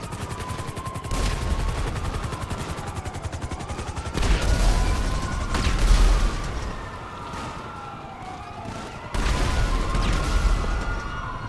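A modder's explosive pistol in GTA 5 Online fires repeated loud blasts in bursts, with heavy rapid gunfire-like crackling that surges and pauses over a wailing siren tone.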